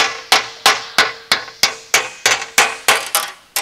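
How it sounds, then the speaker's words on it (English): A radius hammer, made from a reworked Pexto hammer, shapes sheet metal for a Porsche 550 dash, striking about eleven sharp metallic blows at a steady, slightly quickening pace. Each hit rings briefly and decays, close and loud, with no voices. "I got a radius hammer here."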